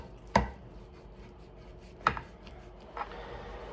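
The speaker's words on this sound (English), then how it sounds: "So I'm cutting the meat into pieces about like this size" A knife chopping meat into chunks on a board, three separate sharp thuds spaced apart over faint background, no talk.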